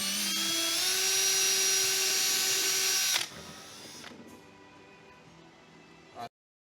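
A power tool whines at high pitch while cutting a hole in the top of a fuel tank, steady and close for about three seconds, then spins down to a quieter hum and stops.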